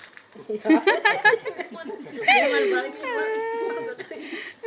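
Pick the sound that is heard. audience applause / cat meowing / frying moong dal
cat meowing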